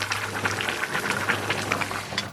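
Boiling water poured into a pot of spicy chili chicken stew, a steady bubbling and splashing hiss lasting the whole moment at close range over a low steady hum.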